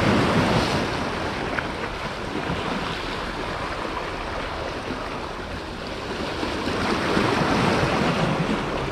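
Ocean waves rolling in continuously on a fishing outing, a steady, fairly loud surf roar blended with wind buffeting the microphone, no voices.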